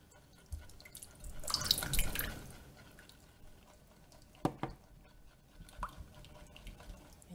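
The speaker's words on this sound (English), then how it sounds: "this is about 1/4 cup of aloe vera juice, and I'm going to gradually add it to my mixture" Aloe vera juice, about a quarter cup, poured gradually into a raw shea butter hair and body butter mixture, giving a close liquid splash and trickle early on, then quieter drips and small pours.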